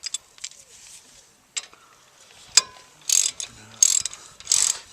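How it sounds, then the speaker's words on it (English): A 1/2-inch drive ratchet loosening front brake bolts on a 2007 Nissan Frontier, with scattered clicks and short bursts of fast ratcheting near the end, fairly quiet overall. "let me grab the normal drive 1/2-inch drive ratchet"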